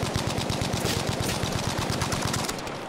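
Bren gun firing in the video game Battlefield V: a loud, close, sustained burst of rapid automatic fire with evenly spaced shots running almost the whole length, then easing off near the end.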